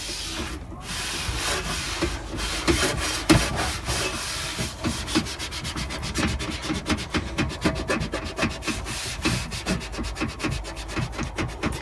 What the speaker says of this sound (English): I'm still only doing this with the sponge side, not using the scouring side at all